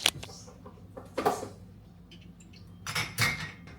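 Pots and pans clatter while cooking in a home kitchen, a few sharp metallic clanks and scrapes separated by quieter pauses, close and alone without talk.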